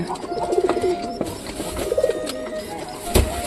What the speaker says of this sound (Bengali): আর এদিকে মোটামুটি সব কবুতরগুলা বের হয়ে গেছে।